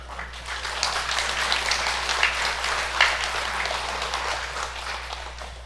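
Dense, sustained applause from a congregation at a religious service, many hands clapping at once, steady and fairly loud throughout with a low hum underneath.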